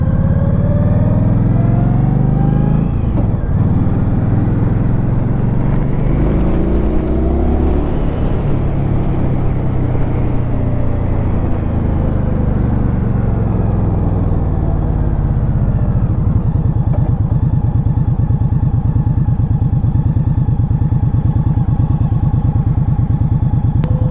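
An Indian Scout motorcycle engine drones loudly and continuously while riding through downtown Phoenix traffic, revving up and easing off in rising and falling sweeps, close to the rider with constant wind and road rumble.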